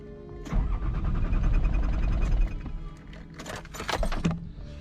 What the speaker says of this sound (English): the car's just stalled at the top of this hill here. I'm going to start it and I won't start.